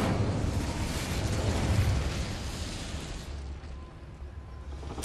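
The Incendio fire spell cast in a Hogwarts video game makes a sustained, loud roaring whoosh of flame that gradually fades and ends with a short burst.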